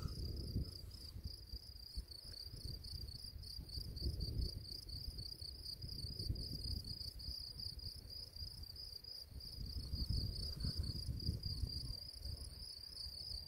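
Crickets chirp in a continuous high, pulsing trill in the Swiss Alps, faint and steady over soft low rumble, with no voices.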